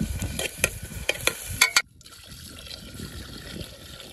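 Pasta with eggs stirs and sizzles in a pan with a few sharp clinks, then water is poured in and the sizzle fades to a soft bubbling hiss.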